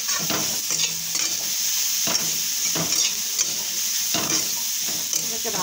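Salt and turmeric powder stirred and fried in a hot pan, with a constant close sizzle broken by repeated scraping strokes of a spatula at a steady rhythm.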